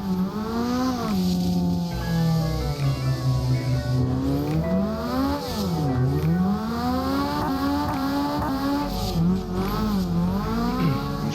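A drifting car in Assetto Corsa, its engine roaring loud and steady as the throttle is feathered, so the pitch keeps rising and dipping, with tire squeal and scraping noise underneath.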